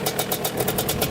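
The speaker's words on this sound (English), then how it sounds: "Alright, that's idling perfect." A 250cc two-stroke quad engine idles close by, with a fast, even putter that pulses in a regular rhythm.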